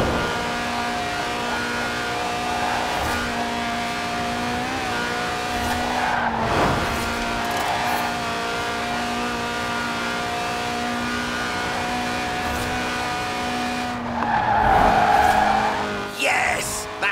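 Lotus race car with a 190-horsepower 1.8-litre engine revving to 8,000 RPM, drifting in Forza Horizon 4; a loud sustained high engine howl with shifts and surges, and bursts of tyre squeal around the middle and near the end.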